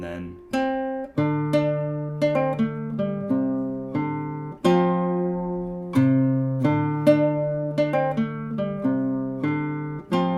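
A clean, plucked guitar riff rings out alone, single notes and short phrases repeating in a steady pattern with clear sustained tones.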